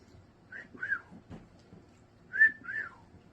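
Soft two-note whistles from a person, faint and close, a pair near the start and another pair after a short pause.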